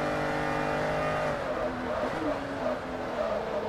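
An Aston Martin race car engine in Forza Motorsport 3, a loud sustained whine that shifts pitch as it accelerates and drops through gears, with a faint voice underneath.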